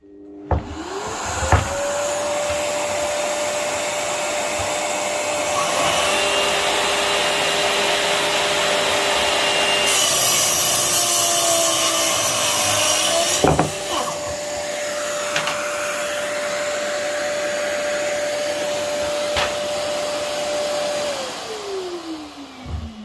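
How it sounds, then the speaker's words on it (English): A dust extractor runs steadily through a timber-cutting job with a Mafell cordless saw, a loud even whine lasting most of the stretch, rising above a brief sawing burst in the middle before winding down near the end. "No, I'll turn the extractor on."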